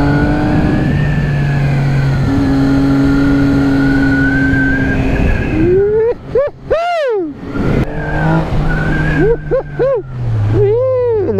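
A Yamaha MT-10 motorcycle runs up close with a loud, droning engine, then snaps through sharp repeated revs that rise and fall in quick bursts, with a rider talking over parts of it.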